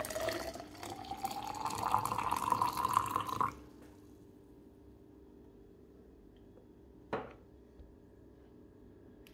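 Boiling water poured into a Wacaco Pipamoka portable coffee maker, a steady rising pour lasting a few seconds, then quiet with a single brief knock near the end.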